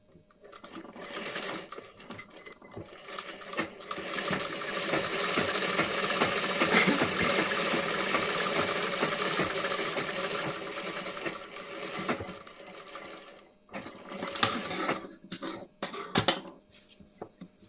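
A sewing machine runs steadily while stitching the back neckline of a blouse, a continuous close whir lasting about eleven seconds, followed by short separate bursts of stitching and a few small clicks near the end.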